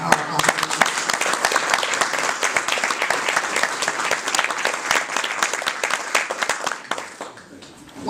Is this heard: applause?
yes